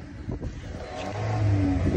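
A Brezza car stuck in a farm field revs its engine, the drone climbing and swelling louder toward the end, close by and without talk.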